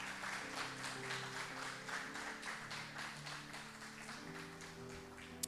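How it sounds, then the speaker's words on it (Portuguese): Church congregation clapping together, a faint steady patter of many hands sustained throughout, with a low droning musical tone underneath. "Vamos dar uma salva de palmas a Deus."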